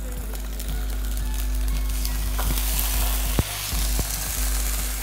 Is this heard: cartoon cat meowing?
no